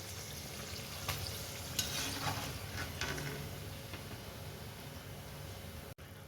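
Chana dal puris fry in oil with a quiet, steady sizzle and a few faint scraping sounds from stirring, heard close and with no talking.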